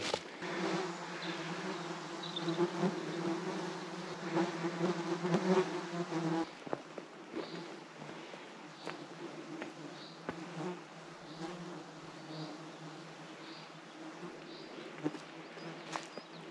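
A swarm of flies buzzing around a hiker in the forested mountains of the Vercors, with close, constant whining drones that come and go over a soft outdoor background and no talk.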